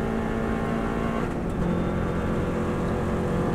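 A Subaru WRX STI at full throttle on the Isle of Man road course holds a steady, loud engine roar with constant road and wind noise throughout.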